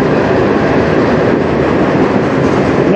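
A CN freight train rolls past close by, a loud continuous rumble of wheels and cars with steady clatter and no talking over it.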